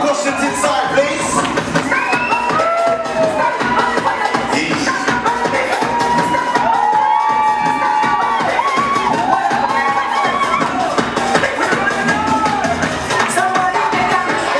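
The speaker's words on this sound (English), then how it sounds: "Can we get a round of applause for the beautiful costumes inside, please?" A crowd at a Notting Hill Carnival masquerade band launch cheers and shouts in a loud, continuous mass of voices. Individual whoops and calls rise above the general noise throughout.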